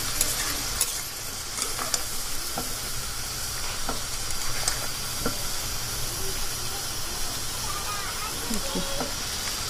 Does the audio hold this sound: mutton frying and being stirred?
yes